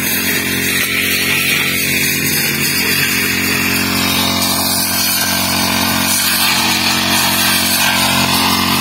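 A grass cutter's small engine runs at high, steady revs on a farm, a loud, close, continuous buzzing whine with no pauses and no talk.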